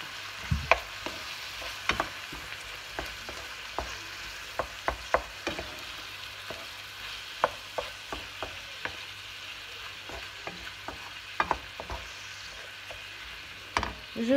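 Ground meat sizzles gently in a frying pan while being stirred, with frequent sharp scraping clicks of the utensil over a low continuous fry, fairly quiet and close.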